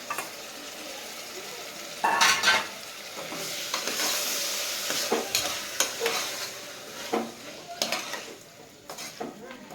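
Marinated mutton frying in oil for biryani, a continuous sizzle broken by frequent metallic scrapes and clinks of a ladle stirring in the pan, fairly close and without talk.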